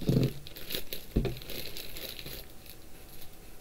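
Soft plastic bags from a Bandai MG RGM-79G GM model kit crinkle and rustle as it is unboxed, close and fairly quiet, with a few sharper handling bursts.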